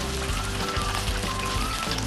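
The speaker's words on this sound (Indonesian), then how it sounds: "Ini lagi proses penggorengan pempeknya." Pempek fish cakes shaped as kapal selam and lenjer frying in hot oil, a steady dense sizzle that stays loud and close throughout without any talking.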